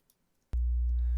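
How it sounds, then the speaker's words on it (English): A low test tone from audio software, identified as a square wave, starts abruptly after near silence and holds steady and loud to the end. A brief click marks its onset. "oh, that's a square wave"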